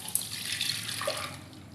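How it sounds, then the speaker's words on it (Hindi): Clean drinking water is poured from a glass in a short, splashing trickle, close and fairly quiet with no talking over it. "और अब इसमें हमने डालना है 2 गिलास पानी।"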